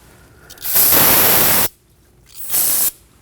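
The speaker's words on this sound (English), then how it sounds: "Using some brake parts cleaner, we're gonna spray the area just to get rid of any of the fluid." Brake parts cleaner sprayed from an aerosol can onto the front brake caliper area of a 2011-2016 Kia Optima, two loud steady hissing bursts, the first about a second long and the second shorter, close up with no talk.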